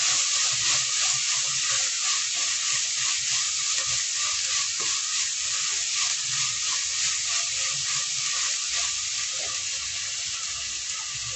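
Large garlic cloves and rock salt frying in oil in a pan for oil-cooked brinjal, a steady close hiss and crackle throughout with occasional stirring clatter.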